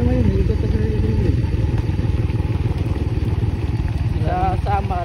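Motorcycle engines rumble loudly and close by near a windmill site at Caticlan, a continuous throbbing drone, with people talking over the noise.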